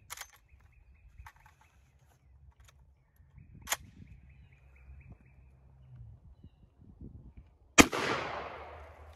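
.357 Magnum revolver shots ring out at an outdoor range: faint sharp cracks early on and a much louder final report with a ringing tail, over quiet background.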